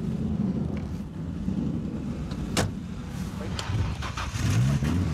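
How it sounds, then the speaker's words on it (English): A car engine idles steadily in the background during a police stop, a low rumble under wind noise and shouted commands, with voices speaking over it. "turn off the car right now"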